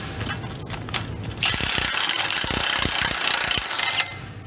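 A ratchet working 14mm catalytic converter bolts on a 2006 Honda Accord, rapid close clicking of the pawl in uneven bursts, growing louder and busier midway, with no talk.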